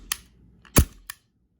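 A Coolfire trainer pistol fires, its slide snapping back with a sharp close crack, followed by a second smaller click and a faint tick near the end.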